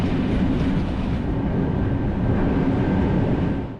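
A train rolls over rickety rails in Eastern Europe heading into Szolnok station, a loud, continuous rumbling roar with rattling wheels and a thin high braking tone running through it, steady throughout before easing slightly at the end.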